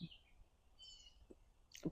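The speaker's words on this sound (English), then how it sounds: "you will hear the critters and creatures and birds singing" Outdoor birds chirp and tweet faintly in a quiet natural setting, with a few short calls at the start and middle and a brighter chirp at the end.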